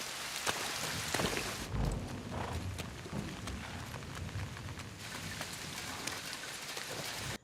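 Rain falling in a film scene from The Hobbit: An Unexpected Journey, a steady dense patter with scattered sharper drops and a brief heavier thud near the start, heard alone with no talk.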